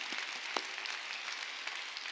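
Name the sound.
congregation applauding in church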